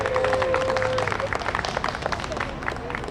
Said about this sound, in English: Round of applause for all the work she's doing.